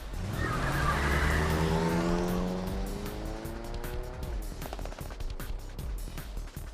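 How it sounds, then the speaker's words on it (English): A taxi engine in the video game 428: Shibuya Scramble revs up hard as the car lurches off, a loud rising whine with tire squeal, followed by a rapid train of sharp, clattering effect hits. "The taxi lurched into motion, the engine quickly revving up to speed."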